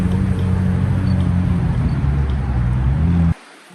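A green McLaren 765LT supercar at a morning car meet gives a steady low engine rumble close by, humming evenly, then drops off abruptly near the end.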